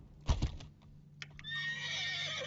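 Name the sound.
horse neighing in video game Mount and Blade 2 Bannerlord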